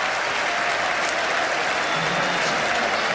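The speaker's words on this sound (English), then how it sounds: "this full house is absolutely on its feet, jumping up and down, shouting and chanting and applauding" A full cricket ground crowd applauds an England win, dense sustained clapping and cheering heard from within the stands at steady loudness.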